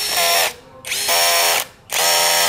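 A power screwdriver drives a screw into wood with a clutch set for slipping, whirring loudly in three sustained bursts with brief gaps between them, very close and alone.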